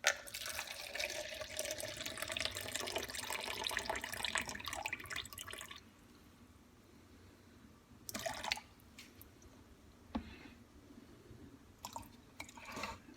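Water runs from a kitchen tap while weighing out water for focaccia dough, a close steady gush for several seconds, then stopping, followed by a few short bursts and drips.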